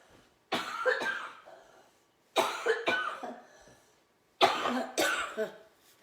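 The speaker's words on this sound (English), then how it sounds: "I'm going to cough for a second." Three bursts of harsh coughing, each a cluster of two or three coughs, separated by short silences, close and fairly loud.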